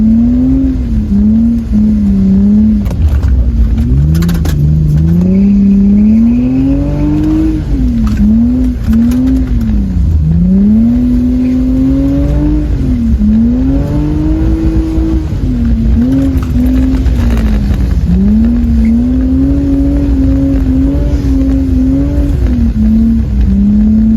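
A drift car engine revs hard and continuously on a track lap, pitch sweeping up and down as it's pushed through repeated throttle bursts, loud and close throughout.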